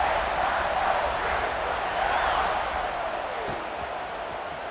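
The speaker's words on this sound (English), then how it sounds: "this crowd is buzzing after that last score." An American football stadium crowd buzzes after a score, a dense steady roar of many voices filling the whole stretch at an even, loud level with no single voice standing out.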